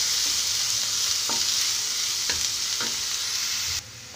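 Green chilli and chopped onion sizzle steadily in a hot pan, with a spatula scraping and stirring through them at intervals, close and fairly loud.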